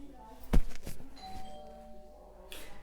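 A doorbell chimes once, a bright tone ringing out over quiet room noise, with a faint rustle before and after.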